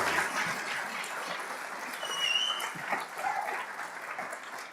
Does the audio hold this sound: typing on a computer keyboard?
no